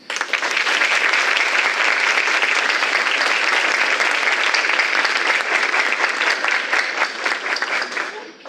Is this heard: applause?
yes